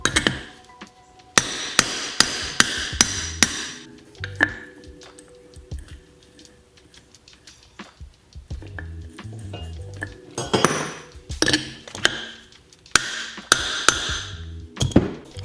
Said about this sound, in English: when we hammer this bearing in